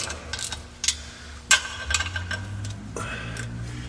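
A ratchet snugs up the clutch pressure plate bolts on a 2002 Ford Focus during a clutch replacement: a few scattered metallic clicks and short ratcheting bursts at close range, with no talking.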